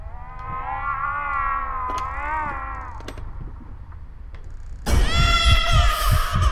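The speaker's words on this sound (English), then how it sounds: "That sounds like a creepy cat." Eerie, wavering cat-like wail from the horror video game Layers of Fear, drawn out over a low rumble for a few seconds, then cut off by a louder burst of harsh noise.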